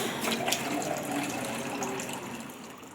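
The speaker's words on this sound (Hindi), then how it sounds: "पानी ये देखिए गर्म हो चुका है, इसको डालते हैं।" Hot water pours in a steady, continuous gush for a few seconds, close and fairly loud, easing slightly toward the end.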